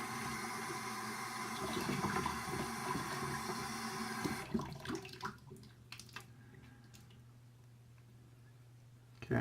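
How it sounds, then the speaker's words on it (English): Paintbrush rinsed under running water: a steady broadband rush of flow for about four seconds, then the water cuts off, leaving drips, small clicks and a low hum. "I just rinsed out my brush"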